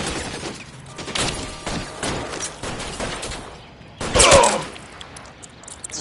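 Gunfire in the L.A. Noire crime game during a fight at an electroplating plant: a rapid fusillade of shots in bursts, with a louder, sharper cluster of blasts near the end.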